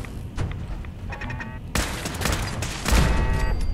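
Gunfire in the Fallout 4 video game, a loud rapid volley of shots with heavy booming thuds that grows more intense toward the end, over a dense noisy game mix.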